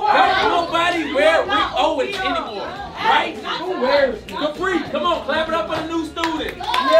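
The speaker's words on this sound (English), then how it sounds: "Come on, clap it up for the new student." A classroom of students clapping for a new student amid lively chatter, chuckles and shouted voices, the claps scattered and uneven under the busy talk close by.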